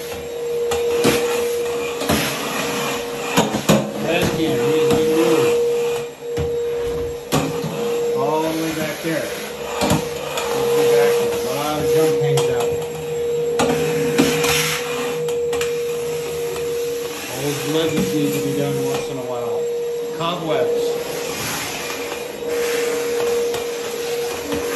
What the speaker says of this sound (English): All these corners need to be vacuumed.